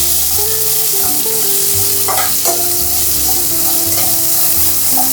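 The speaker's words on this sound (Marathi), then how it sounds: "आता या तेलामध्ये ही घेवड्याची शेंग आपण टाकूया, ही वालपापडी टाकायची आणि ही शेंग या तेलामध्ये चांगली परतून घ्यायची।" Hyacinth bean pods frying in hot oil give a loud, continuous sizzle with scraping stirring strokes, steady throughout, with no voices.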